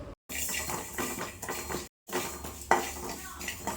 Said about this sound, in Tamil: இப்போ இதெல்லாம் நல்லா பொரியிற அளவுக்கு வறுத்து எடுத்துக்கலாம்.